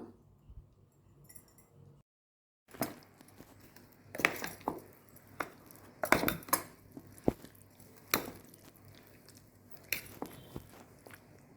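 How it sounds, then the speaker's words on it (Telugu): Grated raw mango pickle is mixed with turmeric and mustard-fenugreek powder, heard as repeated close clinks and wet scraping of a spoon in a bowl, irregular and fairly quiet after an opening near-silence. "ఇప్పుడు పసుపు ఆవాల మెంతుల పొడి వేసేసి కలుపుతున్నాను"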